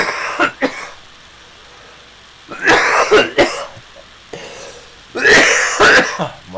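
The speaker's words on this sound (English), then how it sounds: "I should have hit the mic so you didn't have to hear me coughing" A man coughs and clears his throat in several harsh, close bursts, a quick pair early on, then two longer clustered fits separated by quiet pauses.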